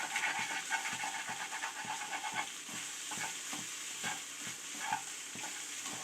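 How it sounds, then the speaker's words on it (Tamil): Cabbage and egg avial is stirred in a pan, with a soft, steady sizzle and repeated light scraping strokes of a spoon at a quiet, close distance. "எல்லாத்தையும் சேர்த்து இப்போ கிளறிக்கலாம்."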